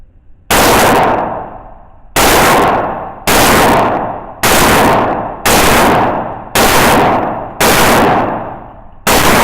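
Seven loud rifle gunshots from a flat-top rifle with no sights, fired one at a time at a steady pace of roughly one per second, each sharp crack trailing off into a short decay, with no voices.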